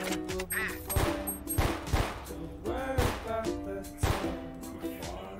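Gunfire in the video game Valorant comes as a series of sharp, loud shots spaced irregularly, mixed with other in-game effects and tones.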